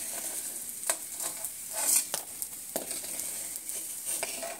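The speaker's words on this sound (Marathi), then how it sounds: "डिंक आपला छान असा मस्त फुललेला आहे, भाजला आपण तुपामध्ये" Edible gum (dink) roasts and puffs in hot ghee with a soft, quiet sizzle, broken by several light stirring clicks and scrapes spread through the stretch.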